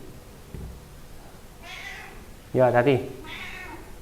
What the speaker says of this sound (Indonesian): Maaf, bentar ada kucing.